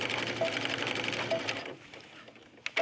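A sewing machine runs close by in a rapid, steady stitching burst for about a second and a half while securing a folded elastic cuff. It then stops, leaving faint handling clicks.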